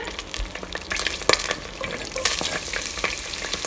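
Crushed pepper and ginger fry over high heat in a pan for chicken fried rice, a loud, close, continuous sizzle broken by clatter and scraping of stirring, with no talking.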